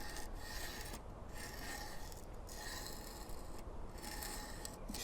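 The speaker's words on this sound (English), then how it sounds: "You start applying the movements backwards and forwards along the blade edge" Coarse grit stone on a TSProf KO2 sharpener drawn back and forth along a knife blade edge, a close steady rasping scrape repeating in rhythmic strokes about once a second.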